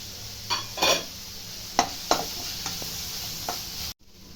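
Maggi noodles and cooked vegetables are stirred in a pan, a soft sizzle under scattered scraping and tapping strokes of a spoon against the pan, close, ending in an abrupt cut.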